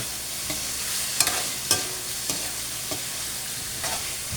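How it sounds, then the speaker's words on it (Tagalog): Chicken stirred with sautéed aromatics in a hot pan, a soft continuous sizzle with several distinct spoon scrapes and clacks spaced about half a second apart, close and fairly quiet. "Mix natin maigi para mag-incorporate yung lasa na masarap ng ating ricado at saka sa chicken."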